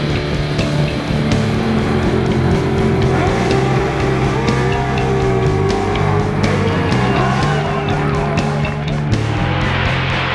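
Muscle cars in street-legal drag racing, including turbocharged, supercharged and naturally aspirated builds, roar with loud continuous engine noise and shifting revs, the sound dense and sustained throughout.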